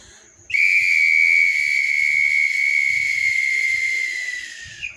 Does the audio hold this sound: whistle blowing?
yes